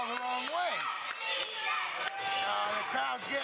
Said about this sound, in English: The crowd's getting on him for cheating.